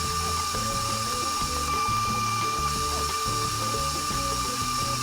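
A stand mixer paddle creams butter, sugar and salt in a bowl, giving a continuous close mechanical churn with a steady rhythmic knocking of the beater and motor, loud and alone.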